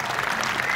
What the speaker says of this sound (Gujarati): તાળીઓથી એને વધાવશું.